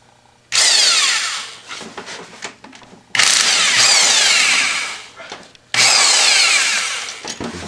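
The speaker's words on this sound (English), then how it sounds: "Then you want to take 1, 2, 3, 4, 5 of those bolts out." Power tool removing 12 mm bolts from the water pump of a Polaris Trail Boss 350L/400L ATV: three loud, sustained whirring bursts, each spinning down and separated by brief clicks and handling noises.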